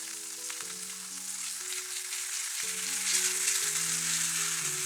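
Food grills in a pan after being brushed with basting sauce and cooked until browned and smoky, producing a continuous soft sizzle over gentle background music.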